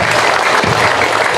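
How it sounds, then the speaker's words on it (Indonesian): A crowd at a birthday gathering for an organization's leader breaks into loud, close applause, a dense wash of clapping filling the short moment without pause. "Tepuk tangan untuk Maung Hercules."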